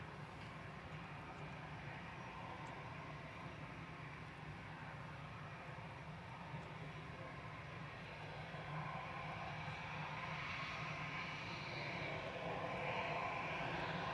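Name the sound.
aircraft on approach at Manchester Airport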